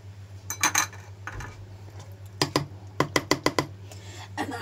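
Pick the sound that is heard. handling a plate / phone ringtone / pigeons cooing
handling a plate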